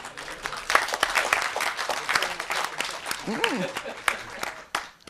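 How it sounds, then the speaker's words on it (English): Audience applause at a university skills conference session: sharp, uneven claps from a modest crowd, moderately loud, with a voice briefly rising through the middle. "A big round of applause"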